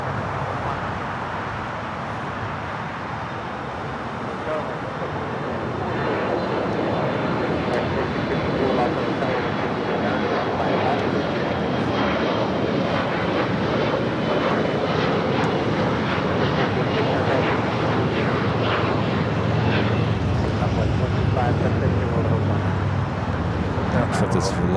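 A SkyWest Embraer E175LR jet takes off at LAX, its engine roar building from a distant rumble to a loud sustained broadband thrust noise, with a person talking over it.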